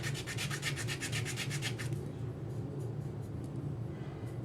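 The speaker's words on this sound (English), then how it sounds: "Some people sand the entire pen, but I don't think it's necessary." Close sanding of the sides of a UV resin ink pen: rapid rhythmic scratchy strokes for about two seconds, then a softer, fainter rubbing over a low background rumble, with no talking.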